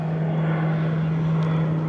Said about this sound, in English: Just spotted 747 over in the cargo side.